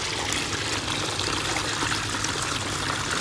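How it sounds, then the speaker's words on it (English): Water falls steadily into shallow water from a pondless backyard waterfall kit, a bright, hissing, constant splash with no pauses, heard close and alone. "Water that's falling down into really, really shallow water, it has more of a treble type of a tone"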